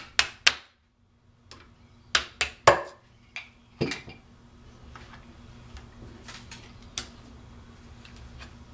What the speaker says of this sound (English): Pull out the takedown pins here.